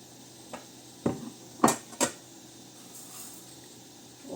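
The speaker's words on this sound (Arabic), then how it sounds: "هنا البنات درت المقله هنا تتسخن، غادي نوضع فيها هاد بذور الكتان" Flax seeds tipped into a heated frying pan: a few sharp, close clinks and rattles in quick succession, then faint scattered ticks in a quiet room.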